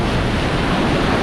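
Strong, steady wind roars against the microphone, mixed with a dense rush of surf, loud and continuous with no voices.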